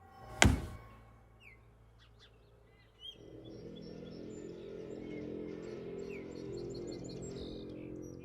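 A bird trapped inside a stove chirps in faint, repeated short tweets over a low hum, after a sharp knock at the start.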